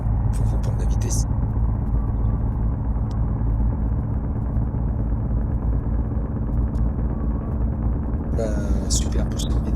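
A heavy truck in the Truckers of Europe 3 driving game is gaining speed, giving a loud, steady low engine rumble that drones on continuously and stays up close, with brief sharper noises near the start and the end.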